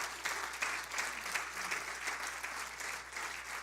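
A church congregation applauds during a Sunday school teaching, steady dense clapping that holds for the whole stretch at moderate level with no voices over it.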